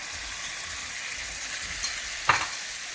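Tamarind and milk are stirred into a curry frying in a pot, giving a steady soft sizzle with a couple of brief scraping stirs near the end, close and fairly quiet, with no talk.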